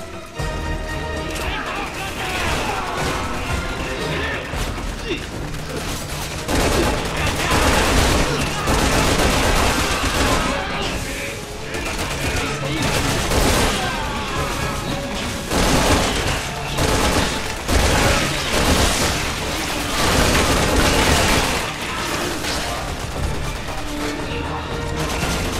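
Constant heavy gunfire rattles through a Resident Evil 6 fight, loud continuous bursts and shots layered with crashes and game sounds, with a voice talking over parts of it.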